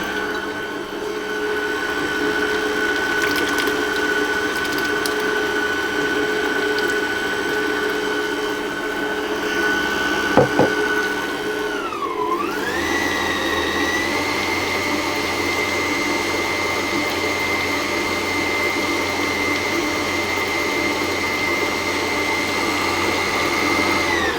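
An electric mixer whirs steadily through whoopie pie batter as buttermilk goes in, a loud continuous motor drone that dips in pitch briefly mid-way, then settles into a lower, heavier hum.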